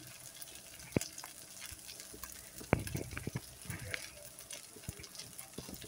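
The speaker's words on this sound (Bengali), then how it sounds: "প্রথমে 2 প্যাকেট মশলা দিয়ে এভাবে হালকা হাতে লুডুসটা নাড়াচাড়া করে দেব।" Noodles are stirred with two packets of spice mix in a pan, giving faint scraping and light sizzling with a few sharp clicks and knocks of the utensil against the pan, quiet and intermittent.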